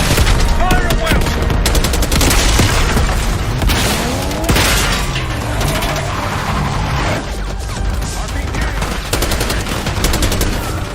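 Dense battlefield gunfire from the Black Ops 6 campaign as a squad storms a palace gate, rapid bursts and booming impacts layered loud and continuous, with shouted voices mixed into the chaos.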